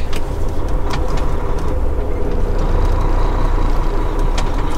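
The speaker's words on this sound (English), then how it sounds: "look at this cattle hauler right here" A cattle hauler semi truck on a highway gives a loud, steady roar of engine and tires that holds for the whole stretch, with no voices.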